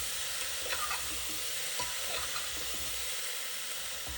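A drumstick (moringa) curry being stirred in a pot after salt is added: a steady sizzle and a soft scraping stir, fairly quiet and continuous, with no voices.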